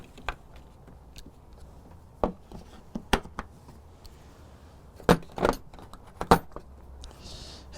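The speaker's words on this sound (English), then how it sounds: "And then, yeah, we got the Allen keys." Dewalt Allen keys from a mechanics tool kit case clink and jangle as they're handled, scattered sharp metallic taps and rattles in small clusters over a quiet room.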